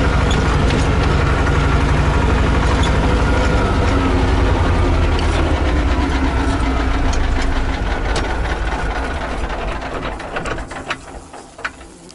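A tractor engine runs steadily and loud at close range out by a field, a dense continuous chugging rumble with a slight knock that eases off a little toward the end.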